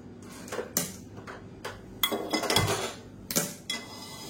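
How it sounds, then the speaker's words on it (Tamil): A kadai set down on a gas stove, with a string of sharp metallic clanks and knocks of cookware, irregular and close, with a few heavier hits among lighter taps. "இப்போது நான் ஒரு வேறு கடாய் வச்சுக்கிறேன்."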